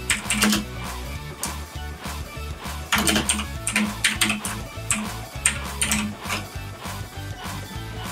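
Rapid clicking of keys on a computer keyboard, irregular bursts of close, crisp keystrokes with short pauses, no talking.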